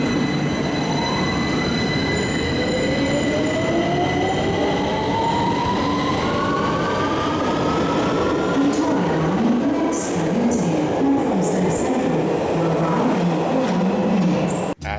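A UK 2009 stock train's traction inverter sings in stepped, rising whines as it pulls away, with a warbling tone midway, all over steady loud rail rumble from inside the carriage.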